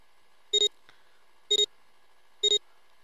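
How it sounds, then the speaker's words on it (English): Warning beep in the video game 999: 9 Hours, 9 Persons, 9 Doors, three identical short electronic double-tone beeps spaced about a second apart, sharp and clean with no talking. "I think it's just a general warning beep."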